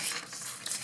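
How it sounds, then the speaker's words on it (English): A sketchbook page turns in one short, soft papery rustle that swells and fades, close and alone. "So I'm going to turn the page and continue to sketch"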